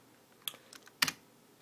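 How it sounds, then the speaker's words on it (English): Computer keyboard keys are mashed while a Java RPG game runs, a few sharp separate clicks with one louder double strike near the end, close and alone. "So you can have fun mashing on the keyboard right now."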